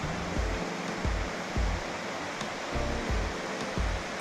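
Palmer Creek rushing along a trail in the Cataloochee valley of the mountains, a steady broad wash of flowing water, fairly loud and continuous, with low thumps of footsteps or handling underneath.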